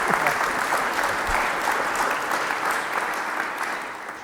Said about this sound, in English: Should we give him a round of applause for being here?